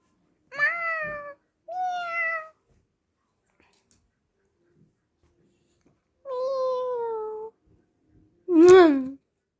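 A cartoon cat gives four drawn-out, wavering meows spread across several seconds with gaps of silence, and the last one is the loudest and most strained.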